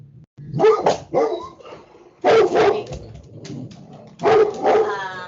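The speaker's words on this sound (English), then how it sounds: "sorry for the dogs barking" Dogs bark indoors nearby, loud repeated bursts of two or three barks at a time, separated by short pauses, with no talk over them.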